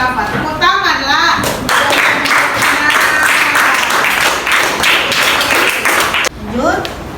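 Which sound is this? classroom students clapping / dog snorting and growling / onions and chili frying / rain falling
classroom students clapping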